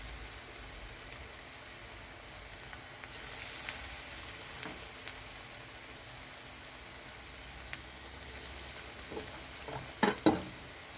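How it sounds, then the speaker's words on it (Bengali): Radish fritters fry in oil in a pan over lowered gas, a faint, steady sizzle with a few brief clinks and scrapes of a utensil near the end, and no talking. "গ্যাসটা কমিয়ে ভাজলে ভাজাটা ঠিকঠাক"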